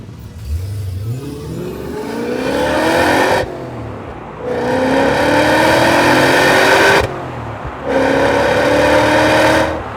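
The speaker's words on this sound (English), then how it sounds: "I do still like to hear the wonderful roar of a V8 engine." Three loud bursts of a BMW E39 540i V8 engine revving hard with muffler deleted, exhaust roaring up in pitch with each pull, separated by brief drops to a rumbling idle.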